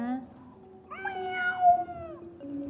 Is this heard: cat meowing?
yes